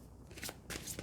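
Tarot cards being shuffled during a reading, a quiet, brief riffle of a few soft papery flicks heard close up, with no talking.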